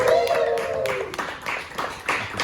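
Scattered clapping and a whooping cheer from an open mic crowd at an Austin coffee shop, applauding the comedians: brief bright bursts of claps over about two seconds after an opening shout.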